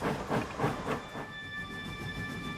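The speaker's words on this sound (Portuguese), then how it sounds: "opera a rota de uma popular locomotiva a vapor, a Jacobita, parte da linha West Highland escocesa" Jacobite steam locomotive on the West Highland Line in Scotland: rhythmic chuffs and hiss from the engine and cars, a few pulsing beats early then steadier rolling noise with a faint whistle-like tone, moderately distant.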